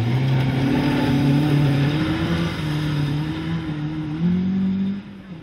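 A Ford Escort Mark 1 rally car drives a stage of the Dukeries Rally, its loud engine droning steadily close by with slowly shifting pitch, then rising briefly before the sound drops.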